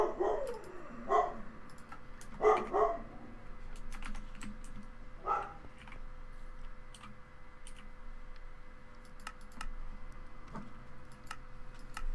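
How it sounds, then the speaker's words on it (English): A dog barks in a few short bursts in the background of a room where keyboard typing and clicking carry on, the barks fairly faint and spaced over the first several seconds. "I don't know what the hell my dog's barking at."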